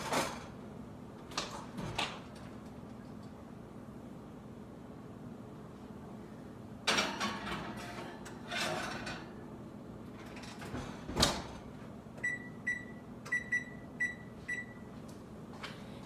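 Kitchen oven door for baking apple crisp, a few sharp knocks and slides from the door opening and closing, then a run of short electronic beeps near the end, in a quiet room.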